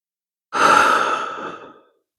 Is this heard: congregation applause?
no